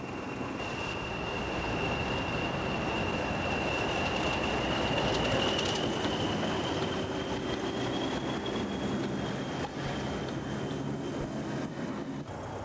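An English Electric Type 4 Class 40 diesel locomotive rumbles past with a loud, heavy, continuous roar and a high engine whine that holds steady throughout.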